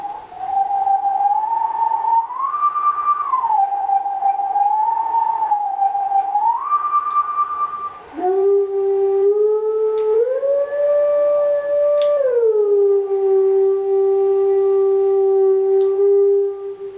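A wolf-like howl follows the haunting melody of a howling stone in The Legend of Zelda: Twilight Princess, sustained wavering tones that slide between pitches, loud and clear with no talking.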